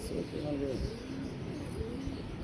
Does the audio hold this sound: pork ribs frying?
no